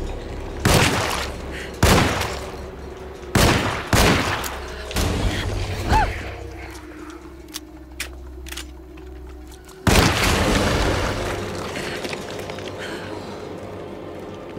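Loud gunshots in the video game Alone in the Dark, booming in separate blasts spaced a second or so apart, followed by a quieter stretch with mechanical clicks and then a final heavy burst of fire.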